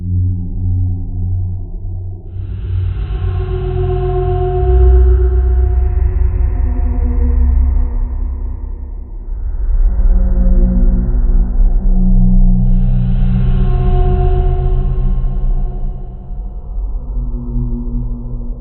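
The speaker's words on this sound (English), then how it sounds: "And then the sound of that gate opening sounds like this." A horror sound effect of hell's gate opening, built from an FL Studio preset: a deep, loud rumbling drone with eerie layered tones that swells in two long surging waves, alone with no voices.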